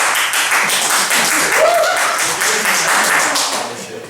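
A student comedy gig audience claps together in a dense, steady burst that carries on for several seconds before tapering slightly.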